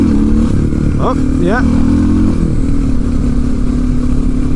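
Small motorcycle engine revving up and down while a rider practises clutch-up wheelies. The engine is loud and close, with a steady idle, quick rising revs and speech over it.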